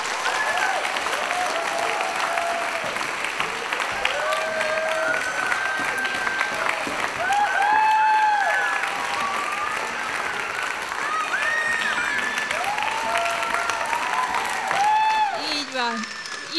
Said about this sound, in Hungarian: Kérem szépen, hogy egy hatalmas tapssal jutalmazzuk.